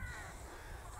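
Rooks call outdoors near a rusty roof, their harsh cawing blending into a continuous, rather faint chorus with no speech over it.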